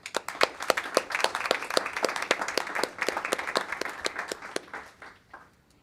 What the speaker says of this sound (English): Well, please give these panelists a round of applause.